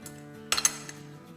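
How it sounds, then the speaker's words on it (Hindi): Chicken breast is mixed with spices in a bowl, giving a quick cluster of two or three clinks from a utensil striking the bowl, close by over a steady low hum, with nobody speaking. "तो चलिए इसको मिला देते हैं। तो अब इसे हम मिक्स करेंगे।"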